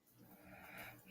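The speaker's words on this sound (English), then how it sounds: "Somebody snoring." Someone snoring nearby in a quiet indoor setting, a single rough, raspy breath lasting about a second, moderately faint against low background noise.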